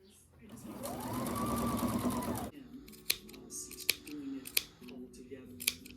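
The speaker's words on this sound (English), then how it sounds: "So now I'm going to take row 2 and attach it to row 1." A sewing machine runs in a fast, steady whir for about two seconds while joining rows of a rag quilt, then stops, followed by scattered clicks and snips of scissors cutting fringe.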